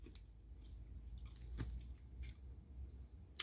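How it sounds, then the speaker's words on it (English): Quiet chewing on a crunchy brown butter pumpkin muffin, a few soft crunches and moist bites spaced out, close to the mouth and faint, with no talking. "hear that crunch? Oh, it's so good."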